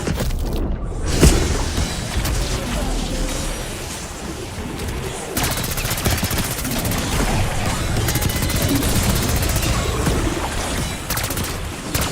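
An incendiary grenade thrown during combat in Black Ops 6 Zombies on the Citadelle des Morts map, with a thud and a roaring burst under continuous loud gunfire and booming game noise.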